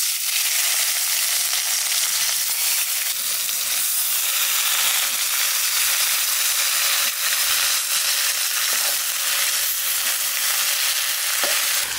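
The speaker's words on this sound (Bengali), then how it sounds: "তেলের পর দিয়ে দেবো জিরে তেজপাতা, এইবার দিয়ে দেবো কচুর ডাগাগুলো আর পাতাগুলো।" Taro stems and leaves sizzle loudly in hot oil with cumin seeds and bay leaf, a dense, steady frying hiss that fills the whole stretch with faint stirring clatter and no voices.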